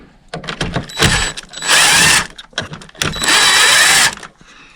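A power drill backs screws out of a MrCool DIY mini-split unit, whirring loud and close in two sustained bursts with clicky mechanical rattles between them.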